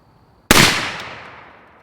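One sharp, loud shot from a rifle fitted with an LMT ION 30 suppressor, with an abrupt crack that fades out over about a second and a half.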